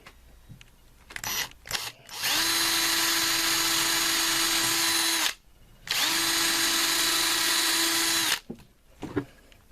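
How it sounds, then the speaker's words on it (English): A handheld power drill bores into wood in two long steady runs of about three seconds each, a loud close whine separated by short pauses, with brief handling clatter around them. "Got my drill."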